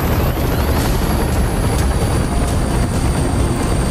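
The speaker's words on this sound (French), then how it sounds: "Incoming chopper" A helicopter in the video game Reach drones with a steady, loud, dense rotor and engine roar that fills the moment alone without change.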